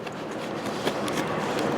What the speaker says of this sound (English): Listen to that throw out bearing. Sounds like shit.